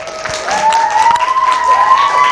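Small studio audience clapping to welcome a speaker onto a talk stage, a brief burst of applause with a thin whistling tone running through it.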